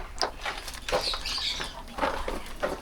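Several birds chirp and call nearby in short, scattered bursts, with rustling movement between calls in an enclosed space.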